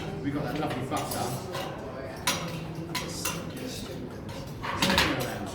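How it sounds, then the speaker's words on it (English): Onions are stirred in butter in a pan over medium heat, with repeated metallic scrapes and clinks of a utensil against the pan and a soft sizzle beneath. A person talks throughout. "Keeping that moving because I want to pick up some of the flavours from the bottom of that pan."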